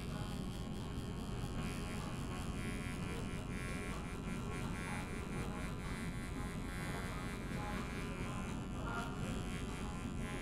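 Andis hair clippers fitted with a guard buzz steadily and close while cutting hair in a barbershop fade, a continuous electric hum with faint voices in the background.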